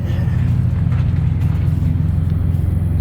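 Road traffic passing near a workshop where a flatbed trailer's ABS is being repaired, a loud, steady low rumble of vehicles that continues throughout with no clear breaks.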